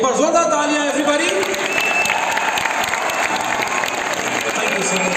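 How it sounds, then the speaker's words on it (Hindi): Applause from an audience at a Cimage College Patna event in Patna, a dense steady wash of clapping throughout, with a voice and some tonal sounds layered over the first second or so. "एक बार जोरदार तालियां एवरीबॉडी।"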